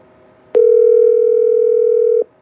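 A single steady telephone ringback tone on an outgoing call-in line, one long unbroken beep lasting under two seconds, loud and clear with no talk over it.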